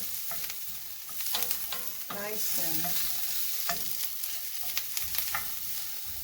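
Garlic sauteing in a pan for a roast beef sandwich, with a steady close sizzle of frying and a few scraping stirs of a utensil against the pan.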